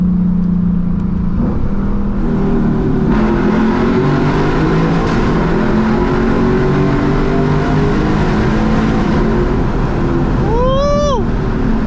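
Lexus IS F V8 running E30 fuel pulls hard through a tunnel, a loud continuous engine drone with rising revs and a sharp climbing whine near the end, heard from inside the car.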